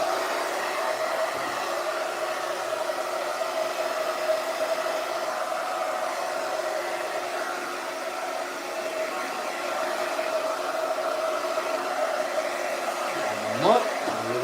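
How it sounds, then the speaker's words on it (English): A hair blow dryer set to hot runs steadily with an even, loud whooshing roar throughout, briefly disturbed by a small knock near the end. "I'm gonna turn on the blow dryer on hot."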